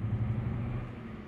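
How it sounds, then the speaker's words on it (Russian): A low, steady truck engine drone hums at idle in Euro Truck Simulator 2, a DAF 95 ATI, a deep rumbling motor sound that softens slightly near the end. "Более современный звук двигателя"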